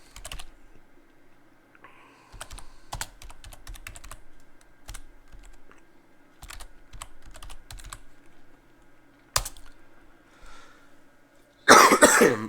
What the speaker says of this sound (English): I do apologize for coughing in your ear